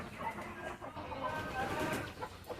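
Clucking chickens and a Bhimavaram breed rooster in a busy coop, with continuous overlapping bird calls and some background noise, fairly close.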